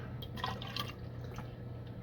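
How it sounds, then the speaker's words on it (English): Water trickling and dripping from the snout of an elephant-shaped watering can onto a pepper seedling being moved into soil, a soft, steady close-up patter with small splashes and no talk. "I got my elephant right here for my water."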